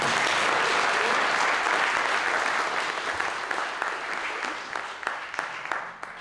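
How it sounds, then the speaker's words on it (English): Audience applause at an instrumental concert, a dense wash of clapping that starts full and gradually thins and fades over several seconds, with a few louder individual claps standing out near the end. "Give Omar a round of applause"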